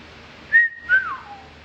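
A person whistles two short, clear notes close to the listener: a steady tone, then a second that slides downward and fades, over a quiet background.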